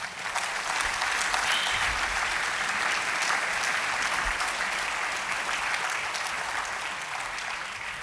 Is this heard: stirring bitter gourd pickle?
no